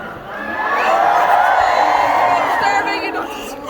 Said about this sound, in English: Thank you so much for cheering us all out so loudly.